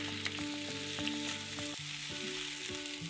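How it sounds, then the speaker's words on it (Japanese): Chicken breast frying in a frying pan for a simple meal-prep diet lunch, a steady close sizzle running throughout with faint tonal background music over it and no talk. "できたら一旦取り出してさっとフライパンを拭いたら、同じように残り1枚分を焼いていきます。"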